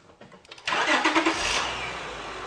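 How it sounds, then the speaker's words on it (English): A car engine cranks briefly and catches, then settles into a steady idle close by, with faint clicks before the start. "you want to start the vehicle."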